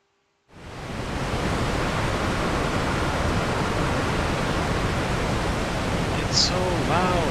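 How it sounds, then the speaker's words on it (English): Loud waterfall roaring outdoors on a fishing trip, a dense constant rush of falling water that starts abruptly and holds steady, masking nearly everything else. "Let's go see a waterfall, shall we?"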